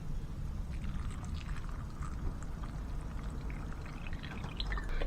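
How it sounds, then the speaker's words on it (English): Water is poured steadily over a cup of dried red kidney beans (rajma) to soak them, a continuous close splashing pour with faint drips, no voices. "Let's soak them in water for at least 6 hours."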